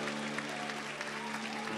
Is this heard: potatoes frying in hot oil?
no